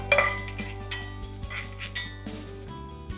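Fried green chillies and garlic are tipped from a pan into a metal mixer jar for coconut chutney, giving a run of sharp metallic clinks and scrapes close up.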